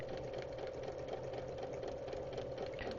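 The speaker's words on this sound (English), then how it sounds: "I am going super slow with my sewing." A sewing machine stitches slowly at close range, giving a steady, even whirring hum with a faint mechanical pulse that runs unbroken and alone throughout.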